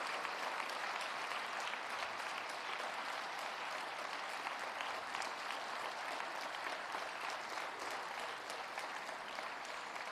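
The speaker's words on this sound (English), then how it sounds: "Can we give all of our winners a round of applause" An audience applauds award winners at a ceremony on healthy diets in Africa, dense sustained clapping from many people that holds steady for the whole stretch with no talking over it.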